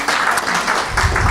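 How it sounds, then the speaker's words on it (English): An audience at a fathering course graduation ceremony in Wollongong claps in a brief, dense burst of applause, close and fairly loud, lasting just over a second. "big clap for Ian Halls, all the way from Kiama."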